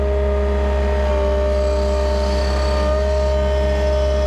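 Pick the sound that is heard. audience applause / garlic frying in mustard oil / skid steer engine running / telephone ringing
skid steer engine running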